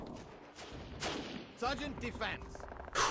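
Cannon blasts and rifle fire boom through a World War I battle in Battle of Empires 1914-1918, several loud bursts at close range with a sharp final crack.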